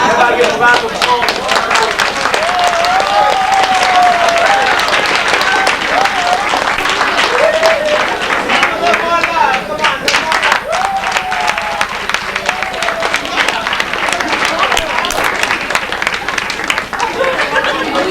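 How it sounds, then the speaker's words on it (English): Sustained applause and clapping from a school audience at Wadleigh Secondary School for actor Omar Epps, loud and continuous throughout with crowd chatter and voices mixed in. "get a round of applause"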